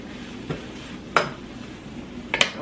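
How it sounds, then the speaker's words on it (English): Mushrooms go into a frying pan of wilting spinach, sizzling softly while a utensil scrapes and clinks against the pan in two or three sharp, close strokes. "Alright, I'm going to go ahead and add the mushrooms now."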